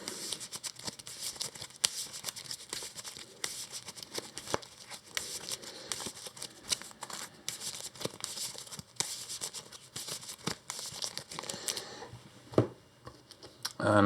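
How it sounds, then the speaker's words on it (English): Cards from the Earthborne Rangers board game are shuffled on a table, producing a steady close riffling and crinkling patter that ends with a soft thump. "We shuffle those."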